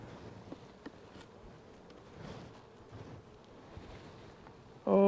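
Honey bees buzz around an opened beehive stacked with honey supers, a soft, steady hum with scattered closer passes, fairly faint and outdoors, ending in a sudden louder burst.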